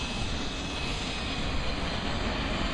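A C-17 military transport jet roars loudly and steadily overhead at an airshow as it banks hard left into a circle, a dense, unbroken engine rumble.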